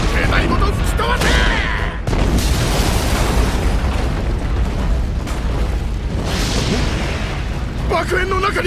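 Explosions in the One Piece Pirate Warriors 4 video game, during a battle at a collapsing execution platform, roar continuously with heavy booms and crackling blasts, loud and sustained, while voices speak over the din.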